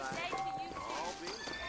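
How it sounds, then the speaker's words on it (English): Saddled horses in the western video game Red Dead Redemption give a faint clip-clop of hooves and a whinny, heard quietly beneath voices talking. "He's got me some saddled horses that are fresh and ready to ride."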